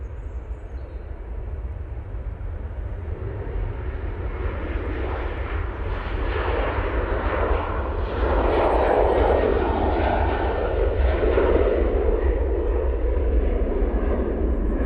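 A Ryanair airliner departing Manchester Airport, its jet engines roaring steadily and building louder as the aircraft moves, a broad continuous rumble heard outdoors from a distance.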